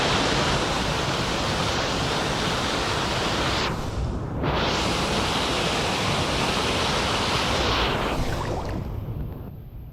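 Cascata da Portela do Homem waterfall in Portugal's Peneda-Gerês national park, a loud, constant broadband rush of falling fresh water filling the whole stretch without pause.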